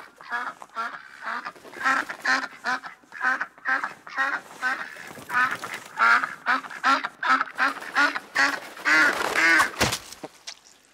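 A recording of a duck quacking plays in a dining setting ahead of a duck dish being served, with loud, steady quacks in a rhythmic series that grows busier and more overlapped toward the end.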